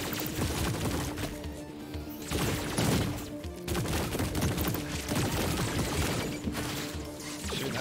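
Continuous gunfire and crashing blasts from the sci-fi shooter game High on Life, loud and dense for the whole stretch, with rapid bursts layered over a steady rumble and no pause.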